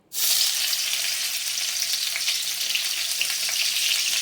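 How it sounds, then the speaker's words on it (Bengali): Steady, loud sizzling of green chillies frying in hot oil, a dense crackling hiss that starts abruptly and continues evenly without any voices. "কাঁচা লঙ্কাটা একটু ভাজা ভাজা হয়ে যাক"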